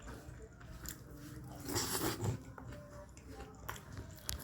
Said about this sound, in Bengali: এবার চিলি চিকেনের এই গ্রেভি নিয়ে চিকেন নিয়ে বাইটটা নেব।